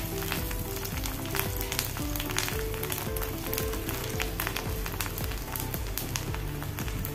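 Garlic sizzles and fries steadily in hot oil for a mango ginger pickle, a dense continuous crackle with no talk.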